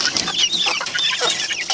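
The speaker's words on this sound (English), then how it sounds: "I think that these are all roosters here." Several chickens, mostly young roosters, cluck and chatter close by in a busy, overlapping flock, with sharp high calls repeating throughout and no talking.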